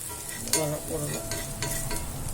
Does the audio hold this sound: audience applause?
no